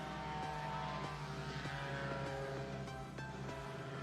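A paramotor engine runs at full throttle during a slalom competition, a steady buzzing propeller drone with a low, faintly pulsing throb, heard from a moderate distance with no talk over it.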